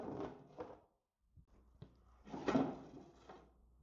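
A hidden false-bottom compartment in a stock wooden dresser drawer is opened, giving soft wooden knocks and a scraping slide, close and quiet, with a sharp tap midway.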